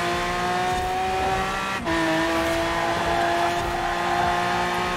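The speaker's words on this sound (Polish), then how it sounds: "Dobra, zobaczymy, ile maksymalnie osiągnę tym Lambosem." A Lamborghini fitted with drag tyres in Forza Horizon 4 roars at high revs, a loud sustained engine note with a brief shift dip before climbing again, tyre squeal mixed in.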